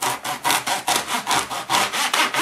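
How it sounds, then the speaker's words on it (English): Hand saw cutting through two wooden side-wall boards at once for a watch tower, a close, loud back-and-forth rasp in a steady rhythm of about ten strokes. "We'll cut those both at the same time."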